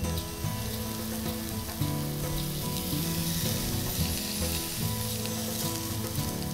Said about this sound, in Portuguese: Então essa carne vai ser tostada e vai chegar a ponto rapidamente.